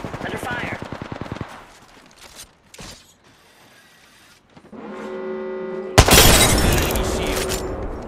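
Rapid automatic gunfire in a battle royale video game firefight, bursts of close, loud shots and mechanical clatter, separated by quieter gaps with synthetic tones and a sharp loud burst near the end.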